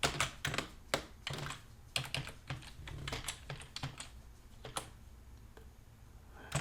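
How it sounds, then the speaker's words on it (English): Password being typed on a computer keyboard, a quiet, close run of separate key clicks in uneven bursts with short gaps, no voices. "I need to type in my password."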